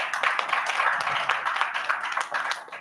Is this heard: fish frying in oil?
no